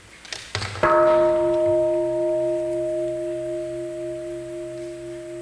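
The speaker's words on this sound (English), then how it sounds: "Well, we have a sound of the bell." A meditation bell struck once after a few soft knocks, its clear ringing tone sustaining and slowly fading across several seconds, close and alone.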